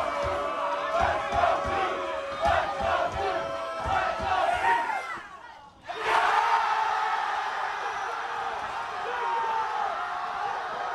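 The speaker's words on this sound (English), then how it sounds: "The players are cheering him on as you can hear the excitement from everyone" Players shout and cheer in a loud group after a victory, excited voices overlapping continuously, with a brief dip and a sharp swell partway through before the cheering carries on.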